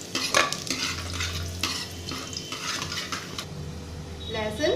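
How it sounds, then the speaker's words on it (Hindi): Garlic browning in hot oil in a pan for dal, a busy crackling sizzle mixed with clinks and scrapes of a spoon stirring against the metal pan, fairly close and with no speech. "अभी ये लहसुन ब्राउन हो रहा है।"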